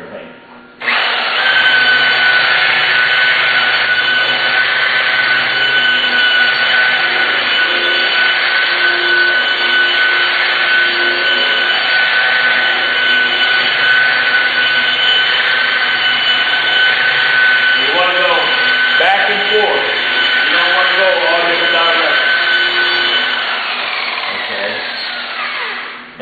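A car buffer with a wool pad polishing automotive paint, running as a loud, steady high-pitched whine close by for over twenty seconds before spinning down, with a voice briefly audible over it.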